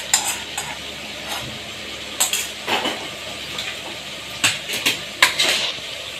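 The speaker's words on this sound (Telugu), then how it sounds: "ఇప్పుడు ఇలా నెయ్యిలో వేపుకున్న మసాలా దినుసులు ఇందులో వేసేసేయండి" Whole spices fried in ghee tumble into a pot and get stirred, with close sizzling under a run of sharp spoon scrapes and metallic clinks against the pot, coming in irregular bursts.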